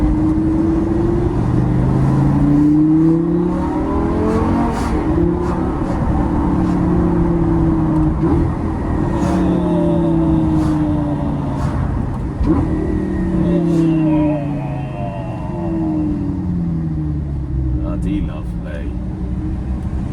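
A Lamborghini engine revs through its exhaust, the pitch rising and falling in repeated sweeps as the car accelerates and shifts gears, loud and near. A person talks over it.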